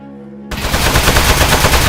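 Sustained rapid automatic gunfire striking metal in the video game Aperture Desk Job, starting abruptly after a quiet moment and continuing loud and dense without a break.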